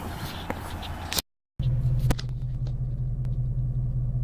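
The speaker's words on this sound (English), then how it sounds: "We'll drive downtown a little bit" Inside a car driving through a historic town, a low engine and road rumble runs steadily, broken by a short silent gap and a few light clicks and bumps, with no talk.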